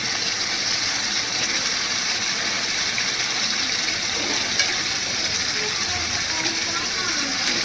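Tap water runs steadily over lemon-rubbed chicken pieces in a pot as they are rinsed, a continuous broadband gush with no pauses, close and fairly loud.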